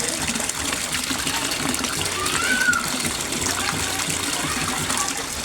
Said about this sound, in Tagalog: ang daming bubbles na na-create niya or na produce niya